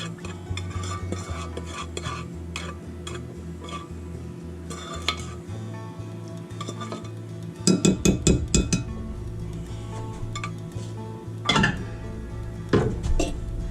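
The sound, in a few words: spoon clinking against dishes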